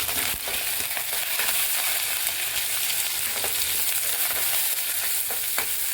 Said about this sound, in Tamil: இது கொஞ்சம் ப்ரௌனாக வதங்கட்டுங்க